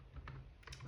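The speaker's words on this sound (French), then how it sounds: "vous devez taper manuellement le nom" A couple of quick, faint keystrokes on a keyboard while entering a Livebox network name, short and soft against a quiet room background.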